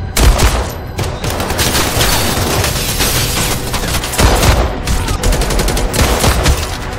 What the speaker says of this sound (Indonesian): Baku tembak yang tidak seimbang pun terjadi.